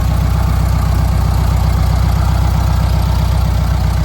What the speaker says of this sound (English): Runs beautifully, fires right up, holds a nice idle, it accelerates nicely.